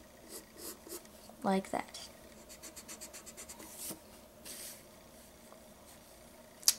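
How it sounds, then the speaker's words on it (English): Pencil eraser rubbing over paper while sketching a manga face, a quick burst of short scratchy strokes near the mic, then a run of rhythmic rubbing passes, with a voice speaking briefly over it. "you want to erase everything under this"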